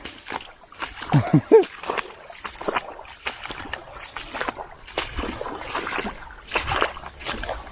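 A hiker wades through cold water on a Florida trail, producing repeated sloshing and splashing steps at close range, with a voice speaking intermittently over the water noise.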